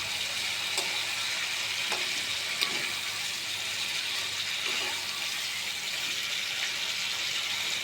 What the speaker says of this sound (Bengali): আর একটু ভালোভাবে নেড়ে চেড়ে নেব।